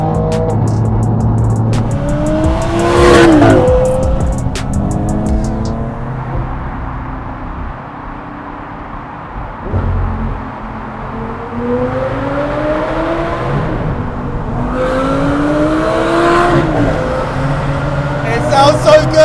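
A performance car's engine revs and roars past on the road, rising and falling in pitch through a few gear changes, close at first, then quieter, then surging again while people talk excitedly over it.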